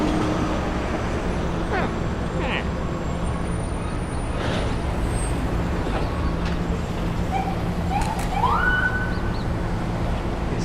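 An NYPD police car siren wails near the Manhattan Bridge amid heavy city traffic, with bus air brakes hissing and a rising siren tone late in the clip.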